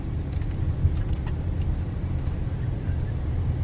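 A truck fitted with front and rear lockers drives through snow, its engine a steady low rumble close by, with faint light jingling and rattling over the drone.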